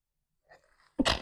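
A single close, sharp sneeze bursts out after a brief quiet intake of breath.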